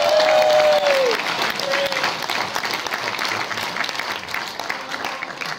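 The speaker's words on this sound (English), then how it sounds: "give her a round of applause." A crowd gives a round of applause, a dense, sustained wash of clapping that starts loud and eases slightly, with a brief whistle or feedback-like tone sliding down near the start and again a moment later.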